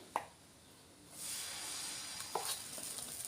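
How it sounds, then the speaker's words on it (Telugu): Multi-dal adai dosa batter hits a hot pan and bursts into a steady, moderately loud sizzle that swells and continues, bracketed by a couple of short sharp knocks of a utensil. "తుడుచుకొని పిండి వేసుకొని మళ్ళీ సేమ్ అదే విధంగా దోశ వేసుకోవాలండి"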